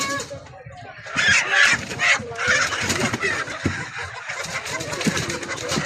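Chickens clucking and fowl calling at a busy poultry market, a steady chatter of birds with market noise and background voices throughout.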